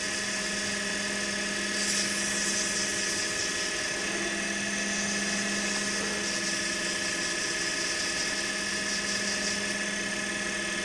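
Low-grit sandpaper pressed against a spinning turned pen on a lathe, a steady high whine and motor hum with a brief rise in abrasive hiss as sanding begins, continuous and close with no talk.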